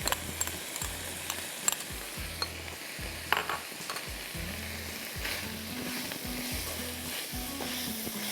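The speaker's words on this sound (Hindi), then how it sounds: "ठीक है, 2 मिनट फ्राई करेंगे इसको।" Sliced onions fry in a pan with a constant sizzle, broken by repeated scraping and stirring strokes from a utensil and a low rhythmic hum underneath.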